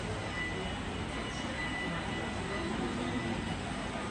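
Model train of B&O and Pennsy hoppers rolling along a layout at a large-scale train show, giving a steady, even rumble with faint clicking, continuous and moderately close amid a soft hall murmur.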